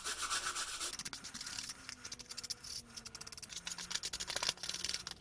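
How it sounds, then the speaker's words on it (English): A small brush scrubs loose dirt off leather in quiet, close, rhythmic rubbing strokes that repeat steadily throughout. "We're going to start with this little brush and just get any of these chunks of dirt, anything loose off of here."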